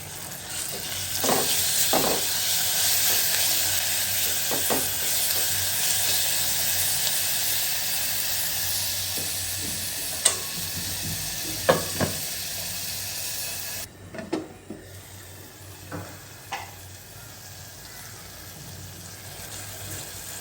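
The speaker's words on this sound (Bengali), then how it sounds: "এখানে ছোটো মাছটা রান্না করার জন্য মশলাটা কষা নিচ্ছি" Spice paste with onion and garlic paste being fried and stirred in a pan for small fish, a continuous close hissing sizzle with scraping stirs, quieting after a pause, no talk.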